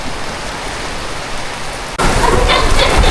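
Steady, heavy rain pours as a continuous broadband hiss, growing abruptly louder and denser near the middle, with no voices.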